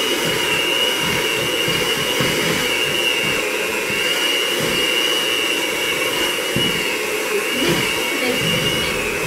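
An electric hand mixer runs steadily at medium speed through a no-bake cookie mixture, giving a constant close whirring drone with faint bowl scraping underneath throughout, and no talking.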